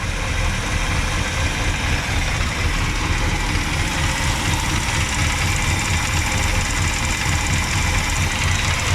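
The engine of a 1967 Pontiac Grand Prix convertible runs steadily after being restarted, a loud, constant rumbling idle close by with no talking.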